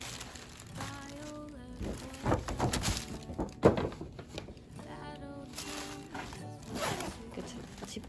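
A zipper on a newly bought wallet-style item from an outlet is pulled open and closed in several quick rasping runs, close up, mixed with handling thumps and rustles.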